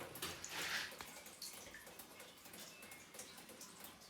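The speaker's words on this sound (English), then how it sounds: "Where's all that water coming from?" Water leaking and dripping from a fragile, rusty sewer pipe in a cellar, a faint steady trickle with scattered small drips echoing in the room.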